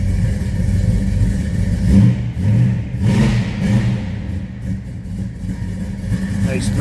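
A 1973 Dodge Charger's 440 V8 with an aggressive cam revs in a deep, throaty rumble, swelling and easing through several pulls at close range while someone talks over it.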